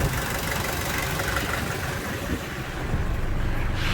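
A 1982 Mercedes 240D W123 diesel engine idles steadily with a dense, continuous rumble and faint knocking texture, close and loud throughout, with no talk.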